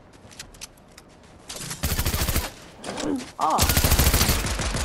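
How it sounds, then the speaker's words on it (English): Rapid automatic-style gunfire in a Fortnite match, quiet at first and then swelling into loud, dense bursts near the end, with a short shout from a player cutting in. "How is a shotgun so weak against a boar?"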